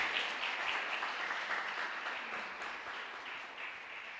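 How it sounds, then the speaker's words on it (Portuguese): A church congregation applauds together, a soft, even wash of many clapping hands sustained for several seconds at a distance, fading slightly toward the end. "Você pode aplaudir o Senhor?"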